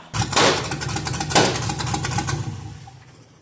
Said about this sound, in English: it backfiring like that?